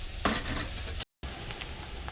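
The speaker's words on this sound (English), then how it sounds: "Next thing we're going to do is add some onions in there. Let them go ahead and be melting." Onions sizzle in melted butter in a hot pot, a steady crackling fry with a few stirring scrapes, briefly cut by a moment of silence before the sizzle resumes.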